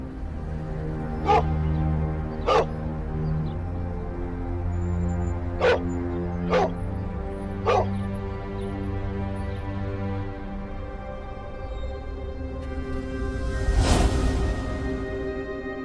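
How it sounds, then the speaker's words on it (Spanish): A dog in a scene from the Mexican TV series La Rosa de Guadalupe whimpers and whines in long drawn-out tones, broken by several sharp yips and a louder bark near the end. "presenta a un perro que le reza a la Virgen de Guadalupe"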